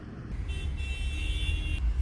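Car horns honk in traffic around a taxi during a ride in China, a sustained high honking tone held for over a second over steady low road rumble.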